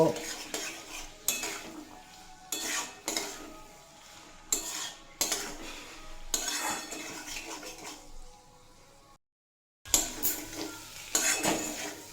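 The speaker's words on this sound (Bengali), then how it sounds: "আগে থেকে লবণ দিয়ে সিদ্ধ করে রাখা ছোলা দিয়ে খুব ভালোভাবে কষিয়ে নেব" Salted boiled chickpeas are stir-fried in a pan for a Bengali pumpkin curry, with repeated scraping and clattering strokes of a spatula against metal over a faint sizzle, close by, pausing briefly into silence before resuming.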